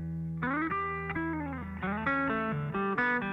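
Distorted seventies-style rock, heavily overdriven guitar playing a chunky riff of sustained chords, loud and alone.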